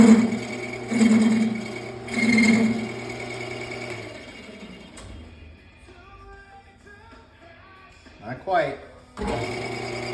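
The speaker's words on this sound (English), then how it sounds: "we gotta keep grinding until that's gone" A small grinder whines in steady high-pitched bursts while porting the cylinder of a Stihl MS400 chainsaw in a workshop, pausing as someone speaks briefly.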